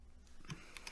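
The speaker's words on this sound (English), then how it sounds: "Type in my password." Soft, faint keystrokes on a computer keyboard as a password is entered to log into a home server, a few light clicks near the end of a quiet moment.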